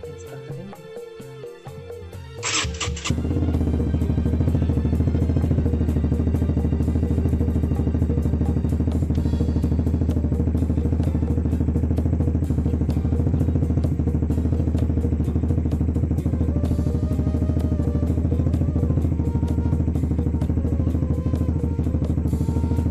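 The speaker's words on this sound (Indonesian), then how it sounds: "Oke, sekarang kalau di starter, coba bos di starter" A motorcycle is cranked with its electric starter, catches after a brief whir and settles into a loud, steady idle that runs on close by.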